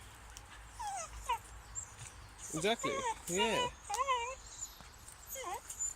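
A dog whimpers in a series of high, wavering whines and squeaky yelps, close and fairly quiet, with a person briefly speaking in between.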